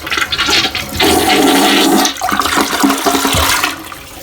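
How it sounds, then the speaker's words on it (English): A toilet bowl with hard water stains flushes with a loud rushing gush, then water swirls and gurgles as the tank begins refilling, close and alone. "I'm going to go ahead and flush this and let it refill."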